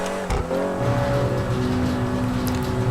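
Vagner supercar engine in GTA 5 Online hums loudly and steadily close by, its pitch shifting as it revs and changes gear, with no voices over it.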